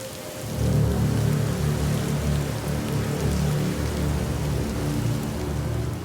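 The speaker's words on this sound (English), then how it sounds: "A professional rain machine was on hand to simulate the heavy rainfall." Heavy artificial rain pours from a professional rain machine onto a piece of heavy artillery, a dense, steady, close hiss of drenching downpour that holds unbroken throughout with no voices.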